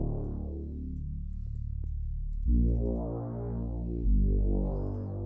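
A Reese bass preset from the Xpand 2 synth plugin sounds on its own: a long, thick low drone followed by two louder swelling notes, dense and buzzing in the low register.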